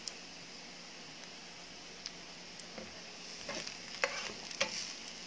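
Garlic browning in a pan for garlic shrimp gives a faint, steady sizzle with scattered crackles and pops that grow livelier toward the end, heard alone.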